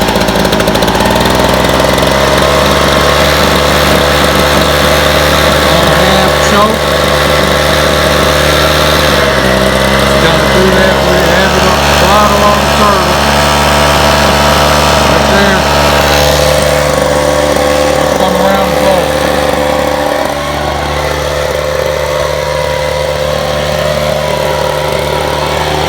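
A mulch-spreading machine's engine runs loud and steady at close range for the whole stretch, with a constant droning hum and a slight dip in level near the end.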